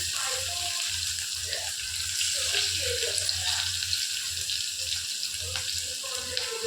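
Garlic dropped into hot oil already tempered with cumin seeds and asafoetida, sizzling and crackling steadily in a pan, close and continuous with a low hum beneath.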